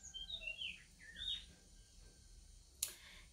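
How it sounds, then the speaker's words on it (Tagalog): Several short, high chirps from a bird in the first second and a half, faint against a quiet outdoor background, followed by a brief sharp click. "So, eto na nga, may ibon."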